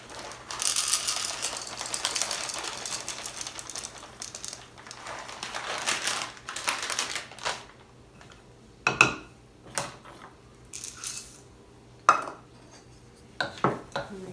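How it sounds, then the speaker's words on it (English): Chocolate chips being folded into muffin batter in a bowl: a stretch of soft wet churning and scraping, then scattered clinks and taps of utensil against bowl, close and fairly quiet. "Mix that into the batter."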